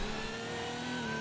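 A 2014 Audi R18 e-tron race car engine in the video game Assetto Corsa drones steadily at high revs, a continuous buzzing tone with no voices, sounding like a racing car held at speed.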